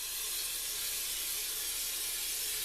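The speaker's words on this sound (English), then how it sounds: "Okay, now we'll finish spraying it." Cooking spray hissing steadily from an aerosol can into a baking pan for Boston brown bread, a close, continuous broadband hiss with no breaks and no talk.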